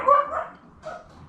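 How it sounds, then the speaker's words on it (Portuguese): A dog gives two short barks a moment apart, the first louder and fuller, the second quieter, with no talk over them. "Cachorro!"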